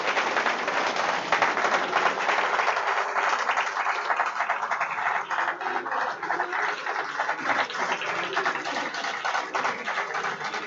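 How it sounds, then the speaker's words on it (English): Steady applause from a conference audience welcoming a guest speaker, a dense even patter of many hands clapping continuously at moderate distance with no speech over it. "Please welcome with a loud applause Shri Sundarlal Bhavnaji."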